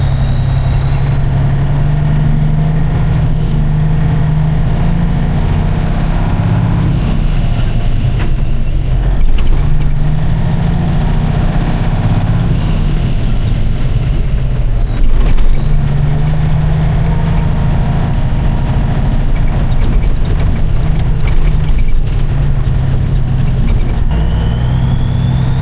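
An International 8200 truck engine runs steadily as the driver finds the gears, a loud continuous low rumble with rising and falling whine as revs change, close and alone without talk.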